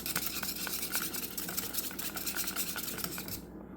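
A whisk scrapes and clatters rhythmically through thick lemon tart filling in a pot, quick repeated metallic strokes close by, stopping abruptly at the end.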